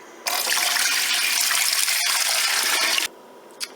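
Water gushes steadily for about three seconds as it is poured into a canner holding jars of chili for home canning. Tap and splash noise is loud and close, and a brief drip or clink follows.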